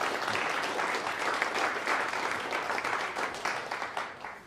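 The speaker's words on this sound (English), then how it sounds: "So round of applause, please." A room full of people applauds at a corporate kickoff event, sustained clapping with audible individual claps that thins out and fades near the end.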